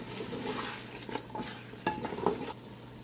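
Carrots being stirred into mixed vegetables in a pan, a close frying sizzle with scraping spoon strokes and a few sharp metallic clinks against the pan.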